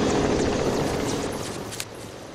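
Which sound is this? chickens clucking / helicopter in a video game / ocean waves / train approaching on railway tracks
helicopter in a video game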